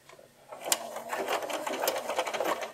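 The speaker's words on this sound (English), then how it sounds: "And this is the number 84 stitch on my Bernina, and I'm using a variegated blue thread for my quilting" Bernina sewing machine quilting stitch 84 with variegated blue thread at the longest stitch length, a close, steady buzzing run of rapid needle strokes lasting a few seconds.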